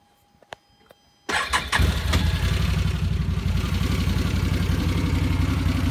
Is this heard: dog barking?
no